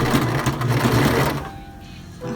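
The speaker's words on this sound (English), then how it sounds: "here's me starting to sew" A sewing machine stitches fabric for a prom dress styled as a wedding gown, a fast steady run of needle clatter for over a second before it slows and stops, close and fairly loud.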